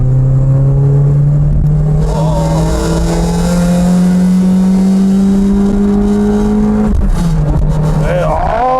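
Toyota AE86 Sprinter Trueno engine revving loudly and steadily while driving, a sustained rising drone that dips near the end, with someone talking over it throughout.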